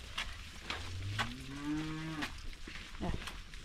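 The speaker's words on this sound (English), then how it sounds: "We have these cows around here." Cows moo in a Kenyan village, with two or three drawn-out, rising and falling calls at moderate distance over faint outdoor background noise and a few soft clicks.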